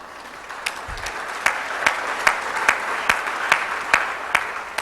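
An audience at an author's book talk applauds, a moderate wash of clapping with a few sharper individual claps standing out at regular intervals, continuous and mid-distance.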